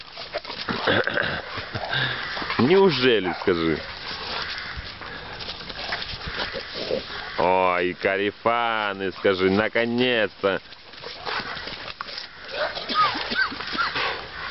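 Dogs play close by, giving growling, whining, yelping bursts that come and go between people talking over them.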